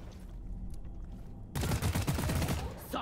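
A deployed turret gun in the video game Deep Rock Galactic opens fire halfway through, a loud burst of rapid repeated gunshots after a quieter stretch of game ambience.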